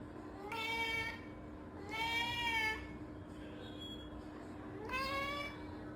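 A cat meows three times, drawn-out plaintive cries spaced a couple of seconds apart, close and clear over a quiet background hum, with no voices.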